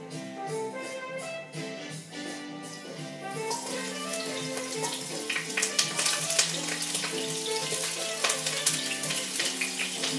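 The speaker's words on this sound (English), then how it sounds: "I'm going to take first my onions and carrots and garlic and put that in the pan" Onions, carrots and garlic hitting a hot pan for Ethiopian cabbage: a quiet start, then a bright sizzle that swells after a few seconds and keeps crackling over a steady tonal hum underneath.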